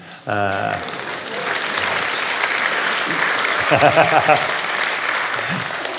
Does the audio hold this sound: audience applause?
yes